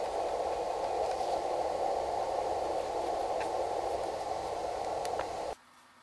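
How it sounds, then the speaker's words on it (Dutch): A Tecsun PL-368 portable receiver hisses with steady loud radio interference static, constant broadband noise with a few faint clicks, then cuts off abruptly just before the end. "Er is hier natuurlijk een stuk meer storing."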